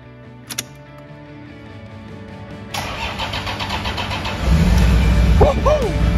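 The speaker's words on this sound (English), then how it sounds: "You got my FTE running." A Toyota 1HD-FTE turbo diesel engine fitted as a conversion cranks and catches, then settles into a loud, rough, uneven idle close by, after a couple of faint clicks at the start.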